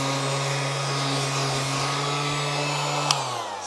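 A Ryobi power sander runs on cedar wood with a loud, steady electric hum and whir that holds close throughout. A small knock comes near the end as the tool is handled.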